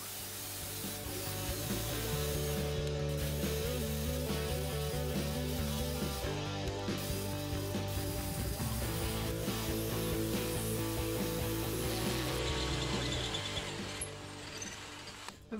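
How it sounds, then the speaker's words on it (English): A handheld drill bores through a metal piece clamped in a vise in a blacksmithing shop, giving a continuous grinding, whirring drone with shifting pitch that holds steady for about fourteen seconds before winding down. "So that is now drilled."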